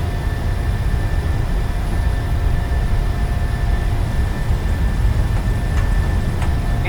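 Twin jet engines of a PMDG Boeing 737 in a flight simulator at takeoff thrust, a loud steady roar with a low rumble that holds unbroken for several seconds, with no voices.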